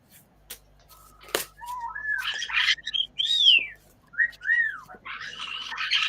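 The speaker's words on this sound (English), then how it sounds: "I think Augea's birds are happy that we stopped talking about Jesus" Pet birds indoors chirp, squawk and whistle in bright rising and falling calls, some loud and close, with short pauses between bursts and a faint low hum beneath.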